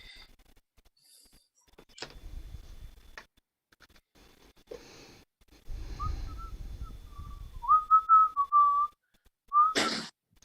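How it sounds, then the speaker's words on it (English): A person whistles a loud, wavering tune close by in a quiet indoor room at a hobby table, following some low thumps and rustling. "That whistling's very loud."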